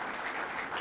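Audience applause at a university lecture hall, a dense steady wash of many hands clapping, full and continuous with no speech over it.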